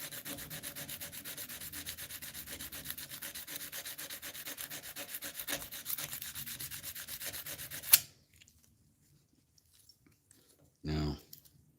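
Wood is sanded by hand with coarse 80 grit sandpaper, a steady rhythmic scratchy rubbing close up for about eight seconds, then near silence broken by one short low thump.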